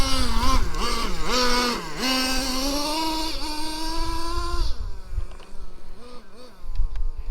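A Traxxas T-Maxx 3.3 nitro RC monster truck engine screams at high revs with rising and falling pitch as the throttle is blipped, then drops to a quieter, sputtering idle-like buzz partway through.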